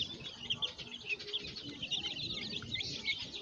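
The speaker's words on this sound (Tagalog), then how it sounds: "3 weeks old chicks naman ito." A batch of three-week-old gamefowl chicks peep in a steady, overlapping chorus of high chirps, close and continuous, with no talk.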